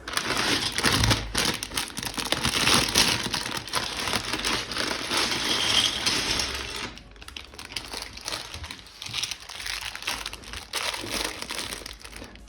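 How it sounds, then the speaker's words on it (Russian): Plastic bags of LEGO pieces are torn open and crinkled by hand, a loud, dense crackling rustle that runs for several seconds, then turns into quieter, sparser crinkles, with no speech. "Отдельное удовольствие открывать пакетики."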